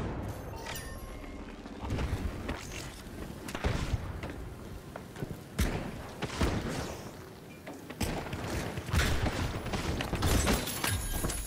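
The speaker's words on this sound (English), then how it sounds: "He's just throwing random nades." Grenade explosions in the video game The Finals, a string of booming blasts and thuds scattered irregularly through continuous combat noise, some close and heavy, others more muffled.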